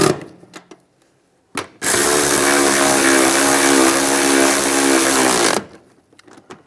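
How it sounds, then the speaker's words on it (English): A power driver tightens nuts onto the seat bolts of a 2007-2013 Chevrolet Silverado, giving a loud, sustained whirring burst of several seconds, framed by a few sharp knocks and clicks before and after. "Now we'll tighten these down."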